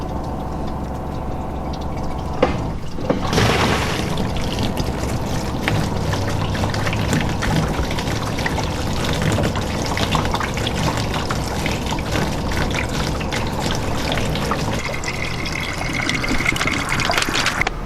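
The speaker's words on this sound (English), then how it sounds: "you're gonna pick up the hose to help it drain" An RV black water tank draining through a hose, a steady rushing gush of liquid that runs continuously and close, with a brief knock near the start.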